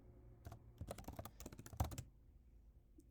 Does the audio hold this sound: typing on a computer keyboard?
yes